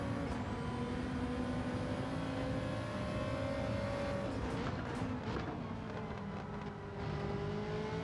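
A Ferrari race car engine in the Gran Turismo 7 racing game, a sustained droning tone with rising pitch sweeps as it passes, then fading and shifting, heard alone without speech.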